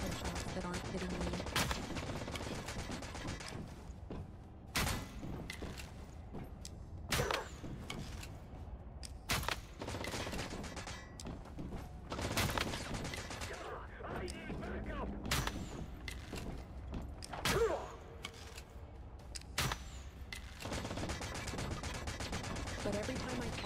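Machine gun fire from the video game Once Human crackles in sharp, irregular bursts and single loud shots, scattered through steady game background noise while someone talks over it.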